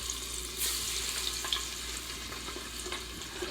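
Breaded creek chubs sizzle and crackle in oil heated to around 400 degrees, a steady close frying hiss with small bubbling pops throughout.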